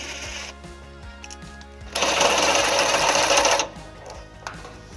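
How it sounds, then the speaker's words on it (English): A power tool with a 13mm socket on a 12-inch extension whirs in one loud, steady burst lasting under two seconds as bolts are removed from a 2018 Volkswagen Tiguan during a trailer hitch installation, with quieter mechanical ticking before and after. "Now we're going to remove those bolts using a 13mm socket."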